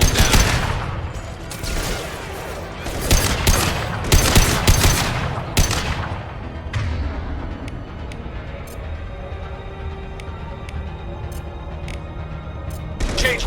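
Rifle gunfire in the video game Mass Effect 2: rapid, loud bursts of automatic fire crackle through the first six seconds, then thin out into scattered, quieter single shots and distant pops.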